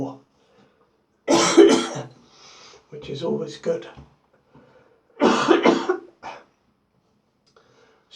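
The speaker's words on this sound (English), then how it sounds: "I've got this cough out of nowhere." A man coughs several times in short harsh bursts, close to the microphone, with brief spoken words between the coughs.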